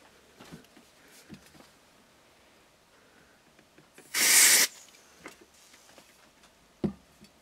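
A short, loud hiss of freeze spray aerosol blasts for about half a second onto electronics of a DIY lab power supply, amid quiet ticks and small handling noises.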